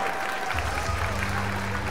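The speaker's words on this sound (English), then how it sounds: "the crowd is on their feet cheering on their champion" Cheering and applause from a large standing crowd at the Evo Guilty Gear final, a steady dense roar that holds for the whole stretch with no clear break.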